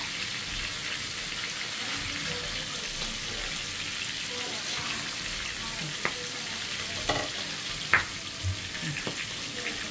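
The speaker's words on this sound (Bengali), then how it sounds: "মাংসটা ভালো করে কষাই নিচ্ছি" Cock chicken meat being stirred and fried in a pan gives a constant close sizzle, with a few sharp clinks and scrapes of the spoon near the end.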